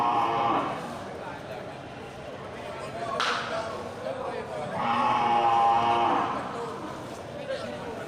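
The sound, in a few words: water buffalo mooing at Aceh livestock market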